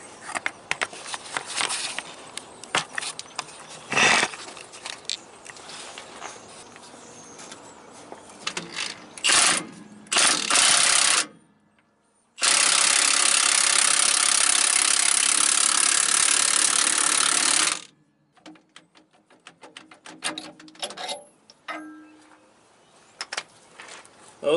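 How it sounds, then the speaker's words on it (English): An impact wrench tightening an S-cam on a three-axle semi trailer fires a loud, sustained buzzing burst lasting several seconds. Scattered metallic clanks and tool handling come before and after it. "when you're using an impact, you got to be careful you don't pull this thing back too far, because you can break it"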